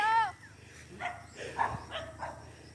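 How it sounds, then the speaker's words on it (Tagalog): A dog barks a few times at a moderate distance, short yelps spaced across the clip, with a low steady hum underneath. "Bakit aso ang hinahanap mo?"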